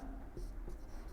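Faint pen-on-paper scratching as decimal numbers are written out by hand in a maths lesson, with a few brief strokes and taps close to the microphone.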